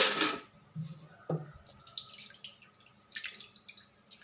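Water splashes and trickles as it is poured off a pot of cooking jowar (sorghum), with dripping and small splatters continuing at a moderate, close level.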